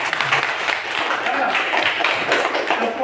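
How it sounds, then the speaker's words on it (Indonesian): Students in an Indonesian classroom clap together in a dense, steady burst that fills the room, with voices mixed in underneath. "Tepuk tangan yang meriah."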